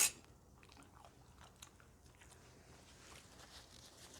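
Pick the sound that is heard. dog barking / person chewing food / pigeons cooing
person chewing food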